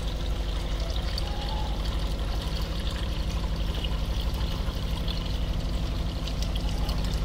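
Water pours steadily into homemade rose fertilizer to dilute it, a continuous close gushing stream that holds loud and even throughout, with no voices.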